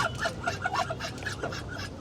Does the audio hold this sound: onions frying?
no